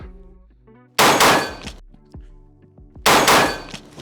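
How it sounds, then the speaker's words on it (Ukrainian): Two loud gunshots ring out about two seconds apart during a shooting drill, each followed by clanging metallic echoes and rattles, with quieter clinks and ringing tones in between. "Перекладаємо нашу руку, тримаємо картинку прицілу, робимо постріл."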